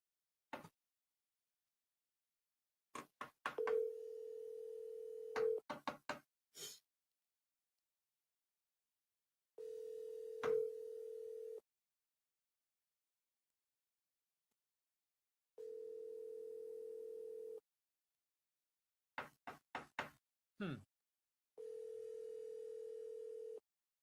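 Telephone ringback tone on an outgoing call back to a seller, sounding in repeated steady bursts of about two seconds separated by silences, with brief clicks and line noise between them and no voices.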